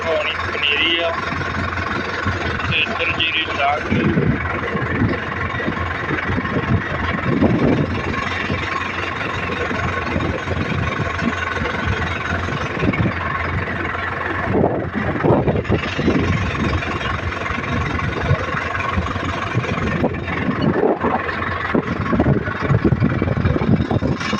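A tractor's diesel engine chugs steadily throughout, a constant low rumble close by, with someone talking over it now and then.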